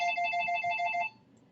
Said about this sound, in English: This doggone phone is ringing here